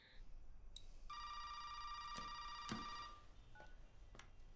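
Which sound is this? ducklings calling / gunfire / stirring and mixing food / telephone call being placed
telephone call being placed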